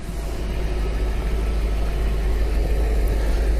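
A 2001 Audi S6 idles while cooling down after a drive, its engine a steady, close, low rumble that holds even and unbroken throughout with no voices over it.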